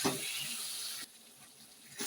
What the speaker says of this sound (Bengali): দিয়ে দেবো একটু জল